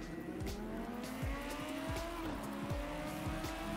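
Race car engine in the racing game Project Cars 2, a loud rising whine with gear shifts and brief tire squeals as the car accelerates, steady and close throughout.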